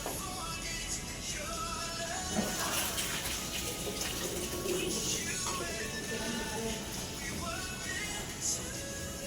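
Water runs steadily from a tap during a ceiling clean, a continuous splashing gush with scattered clatters, moderately near, while faint voices murmur in the background.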